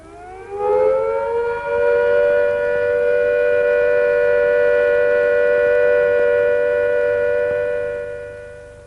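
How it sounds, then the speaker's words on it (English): A civil defense all-clear siren winds up quickly, then holds one loud steady tone for several seconds before starting to fade. "the siren will sound a steady note like this"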